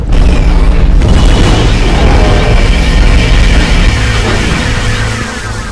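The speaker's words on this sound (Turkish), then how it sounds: "Son bir kez daha sıkacağım zaten son mermi." Gunshot from the Area 51 video game as the last bullet is fired, a loud booming blast that fills the stretch and slowly fades near the end, with no speech over it.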